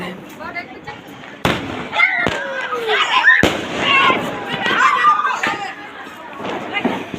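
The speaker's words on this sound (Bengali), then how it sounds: "অনেক বম পড়াইতেছে আমার বন্ধুরা।" Firecrackers and fireworks set off by friends on a foggy New Year's night, sharp bangs and pops bursting at irregular intervals at moderate distance, with crackling and faint voices and chatter in the background.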